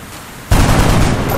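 Sudden loud burst of gunfire from the video game XCOM: Enemy Within, a dense sustained volley that cuts in after a quiet moment and rolls on without a break.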